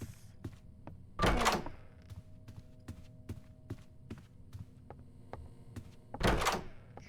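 A door swings open in the horror video game Doors, a loud burst of creaking and scraping near the start and another at the end, over a steady low ambient hum with faint ticking.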